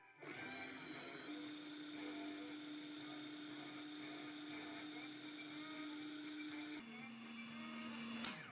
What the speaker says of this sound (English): Cut the fish into small pieces and into the food processor